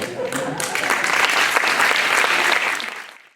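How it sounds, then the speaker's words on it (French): An audience at a clown magic show applauds in a dense, sustained burst of clapping that swells, holds strong, then fades out toward the end. "ça, c'est le signe international pour les applaudissements"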